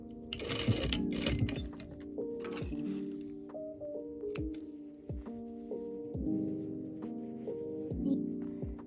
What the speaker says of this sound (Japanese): 同じように縫っていきます